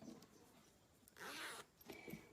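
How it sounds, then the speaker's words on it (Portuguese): Zipper pulled along a freshly sewn fabric pouch, a close, quick rasping slide of about half a second with small handling rustles around it and no talking. "O meu zíper corre aqui."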